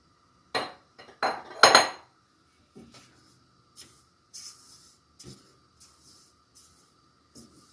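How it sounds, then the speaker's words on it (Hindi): A spoon knocks and scrapes against a kadhai while wheat flour dry-roasts without ghee: a few loud clanks at first, then sparse, fainter taps and scrapes with quiet gaps between. "अब सबसे पहले मैं एक कढ़ाई में आटा जो मैंने लिया था उसे भून लूँगी घी के बगैर ही"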